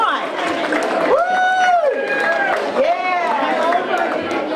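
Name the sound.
crowd applauding and cheering for Mike at class reunion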